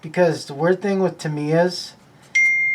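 A phone notification beep sounds once near the end, a short bright electronic tone with a sustained ring, heard right after someone speaks during a build session.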